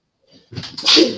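Single loud, close sneeze from a person in a classroom, a brief sharp intake followed by a forceful burst.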